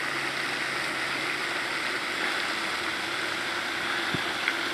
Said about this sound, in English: And here's the water fountain at the Virginia Zoo.